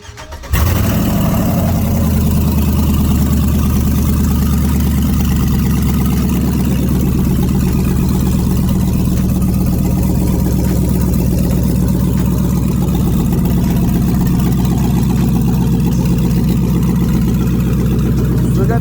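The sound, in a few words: truck engine running with straight exhaust manifolds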